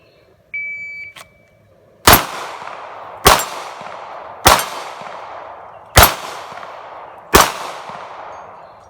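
A Sig Sauer P365 pistol fires five sharp, loud shots at distance targets, spaced roughly a second apart, each crack ringing out with a decaying tail over an outdoor range, after a brief beep at the start.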